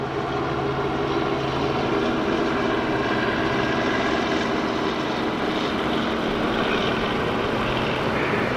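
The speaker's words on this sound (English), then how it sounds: "I can hear a helicopter too." A helicopter flies near Sydney Airport, its engine and rotor making a loud, steady, continuous drone that stays close for the whole stretch with no talking.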